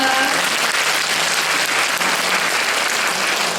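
An audience at a 2017 talk concert breaks into loud, sustained applause after a speaker, a thick even roar of clapping, with a brief trace of a voice trailing off at the very start.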